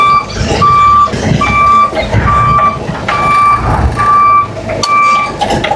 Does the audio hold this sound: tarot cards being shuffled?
no